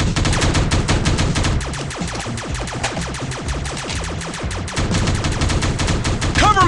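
Rapid bursts of gunfire in the Teddy Bear Gun Strike shooting game, loud and relentless, with dense machine-gun volleys that thin briefly into spaced shots mid-stretch before picking up again.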